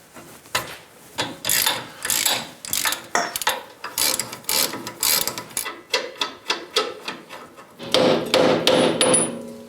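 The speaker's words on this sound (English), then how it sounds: "We're going to start by disconnecting the upper ball joint." Sharp metal hammer blows striking the upper ball joint on a 5th-gen Toyota 4Runner's front suspension, a long irregular series of close clanking hits with a brief ratcheting pause and a final denser burst.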